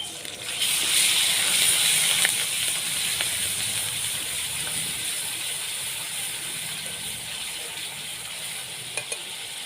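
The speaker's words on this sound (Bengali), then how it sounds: "পেঁয়াজ বাটা দিয়ে দেব" Onion paste hits hot oil already fried with bay leaf, cardamom, cinnamon and clove, bursting into a loud, steady, close sizzle and hiss that slowly eases over several seconds.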